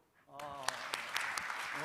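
Applause from a congregation during a Korean Wednesday night church service, broadband clapping rising after a brief quiet start and continuing steadily, with speech-like tones mixed in.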